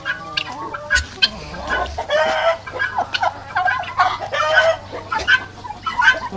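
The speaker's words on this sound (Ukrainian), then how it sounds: "Ось цей цесар голубенький." Guinea fowl, including a blue male, call near a rabbit hutch: loud, close, repeated harsh cackling cries in irregular bursts, one overlapping another, with a faint low hum beneath.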